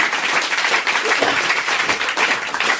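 A television studio audience applauds, a close burst of many hands clapping in a dense, slightly uneven patter that holds steady throughout.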